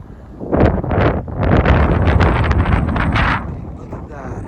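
Strong wind gusts across a microphone in the Grand Canyon, loud and close, a heavy roaring buffet that rises quickly, holds for a few seconds, then drops away to a quieter rush.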